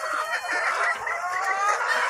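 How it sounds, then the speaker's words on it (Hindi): Hen clucking and crowing-type calls from chickens in a shed bedded with rice husk, a continuous close, busy stream of fowl vocalisations with no talk. "ये देखेंगे मुर्गी मुझे बहुत तंग कर रही"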